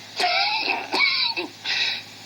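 Three hoarse, raspy coughs close by, each a short harsh burst with brief pauses between.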